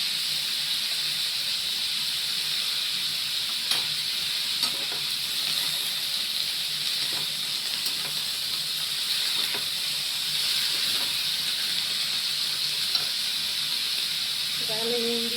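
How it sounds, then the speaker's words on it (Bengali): Green chilli and chilli paste fry in a pan, giving a steady loud sizzling hiss that holds for the whole stretch, with faint clinks now and then. "একটুখানি বাটা লঙ্কা ছিল, কাঁচা লঙ্কা একটু দিয়ে দিচ্ছি।"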